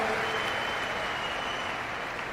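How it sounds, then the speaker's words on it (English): Audience at a live event in Delhi breaks into steady, dense applause, a continuous wash of many hands clapping at moderate distance with no pauses. "Oh, you're clapping."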